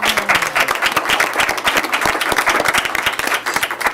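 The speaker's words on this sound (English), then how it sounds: "Let's give them a round of applause." Audience applause at a school district board meeting, a dense, loud burst of many hands clapping steadily for the full span with no talk.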